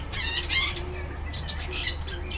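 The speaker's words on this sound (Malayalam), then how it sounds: "നിങ്ങൾക്ക് പക്ഷികൾ പാറിപ്പറന്ന് നടക്കുന്നത് കാണാം." Birds in an aviary in the Maldives give loud, harsh squawks in short bursts close by, with quieter rustling and calls between them and no talking.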